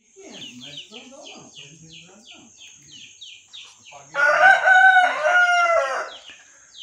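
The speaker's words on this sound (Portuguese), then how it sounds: "bastante galinha." Rooster crowing loudly and nearby in a burst midway, over scattered chicken clucks and bird calls at a rural farm along the BR-319 highway in Brazil, with a voice talking underneath.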